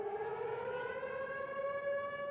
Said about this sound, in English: The sound of sirens or other warning devices means listen to a radio.